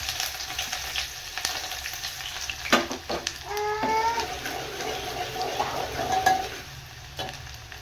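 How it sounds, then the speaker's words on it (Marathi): Chopped onion drops into hot oil and sizzles steadily, with crackling bursts and the occasional clink of a stirring spoon, for a tomato amti cooked in a rural home kitchen. "तेल गरम झालं आहे, यामध्ये टाकायचा कांदा"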